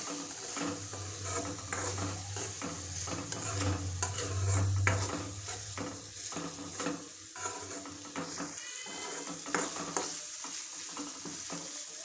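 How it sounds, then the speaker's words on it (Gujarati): Vegetables being stirred with red chili and coriander-cumin powder in a pan while making Maggi noodles at home, a steady sizzle under repeated scraping strokes of a spoon against the pan, close and fairly continuous. "થોડું લાલ મરચું નાખશું, ધાણા જીરું પાવડર નાખશું, બરાબર મિક્સ કરશું"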